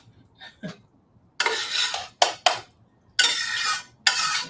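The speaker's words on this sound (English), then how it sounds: "Just scrape this all in here like this." A utensil scrapes cooked plant-based food out of a hot pan in several long, loud scraping strokes with short pauses between them, heard up close after a few faint knocks.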